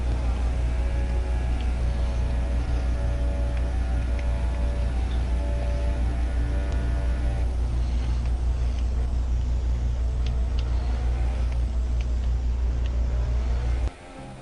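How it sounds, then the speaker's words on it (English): A Formula 1 car in the F1 2017 video game accelerates up to eighth gear at full throttle. The engine drone stays loud and steady, and a commentator's voice comes through faintly beneath it. "Here he comes, getting up to speed here, up to 8th gear. The car's at full song."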